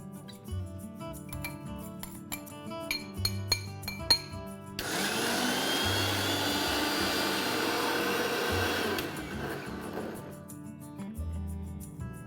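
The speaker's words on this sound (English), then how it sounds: "The roasted onions and coconut has cooled down. Now let's grind this to a fine paste." A kitchen grinder blending cooled roasted onions and coconut into a fine paste for mutton sukka, a steady loud whirring roar of about four seconds in the middle, with music before and after.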